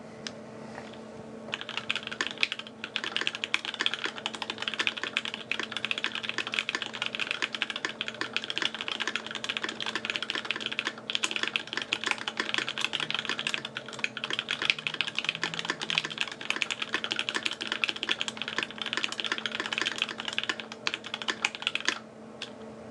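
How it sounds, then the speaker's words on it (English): Continuous rapid typing on a Viktus Deltablade mechanical keyboard during a typing test, steady dense key clacks close up for over twenty seconds with no talking. "Let's do another typing test."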